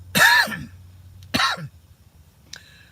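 Two harsh coughs, close and loud, separated by a short pause, then a brief vocal sound.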